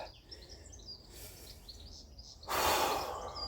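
Sharp, forceful breaths from a person doing a light pullover with a 22-pound plate, a quieter exhale followed by a loud, rushing breath close to the microphone, with birds chirping faintly outdoors.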